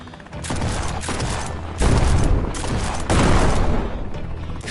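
Dense bursts of gunfire and a booming explosion from the VR shooter game Guns'N'Stories: Bulletproof VR, loud and continuous, with overlapping shots and blasts filling the whole stretch.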